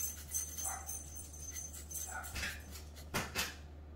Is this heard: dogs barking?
yes